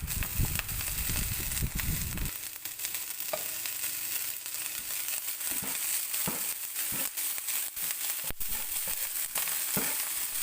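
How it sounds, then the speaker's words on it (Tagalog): Garlic sautés in a pan for egg fried rice: loud, close crackling sizzle runs throughout, with a heavier rumbling start and then steady frying broken by repeated sharp pops and scrapes of stirring. "mag-saute lang ng garlic o bawang"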